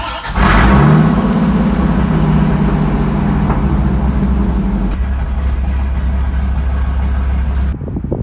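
A daily-driven Dodge Viper accelerates hard, its loud, steady engine roar building and holding before dropping off abruptly near the end, with no voices over it.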